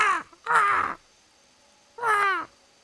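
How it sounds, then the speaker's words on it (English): Birds in the video game Metal Gear Solid 3 give three loud, close, harsh calls: two in quick succession, then a third after a short pause. "Oh, I can hear it. I can hear the birds."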